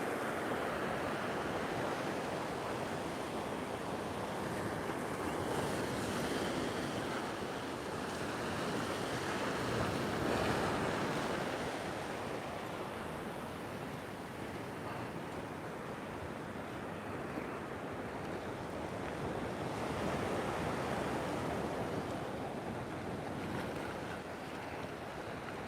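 Ocean waves breaking on the shore produce a continuous, loud roar of surf, swelling and easing slowly with wind buffeting the microphone throughout.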